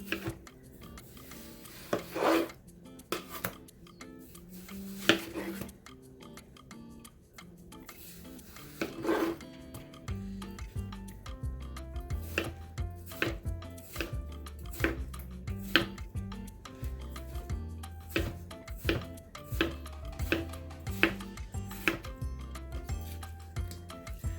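A big kitchen knife slicing a small watermelon into a grid, with scraping, rasping cuts and soft thuds on a board that repeat in close, uneven strokes, and no voices.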